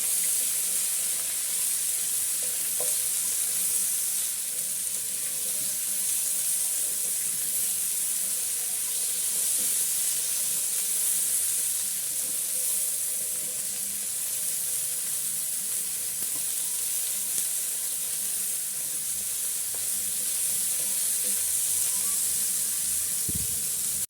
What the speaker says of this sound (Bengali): এখন আমি তেলের উপরে এই কপিগুলো ফুলকপিগুলো একটু ভেজে নেবো